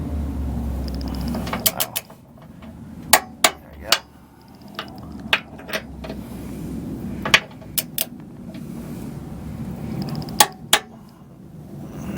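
Wrench tightening bolts on a Curt trailer hitch being installed on a second-generation Toyota Prius, heard as sharp metallic clicks and clanks at irregular intervals over a low rumbling background, fairly close.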